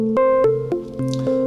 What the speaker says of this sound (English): It goes into the snare model of the macro oscillator 2.